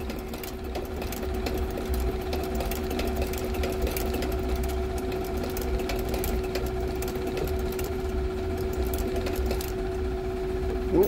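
A sewing machine stitches a Grenson shoe during a repair, giving a steady, close, continuous mechanical hum with a fast rattling needle rhythm that runs without pause.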